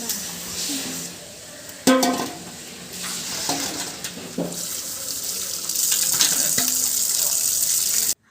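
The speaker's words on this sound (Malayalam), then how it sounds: "പാത്രം ഒന്ന് കഴുകിയെടുക്കണം" Cooking pot being washed under running water at a kitchen tap, with splashing, clattering knocks of the vessel and a steady water stream that grows fuller toward the end, while people talk in the background.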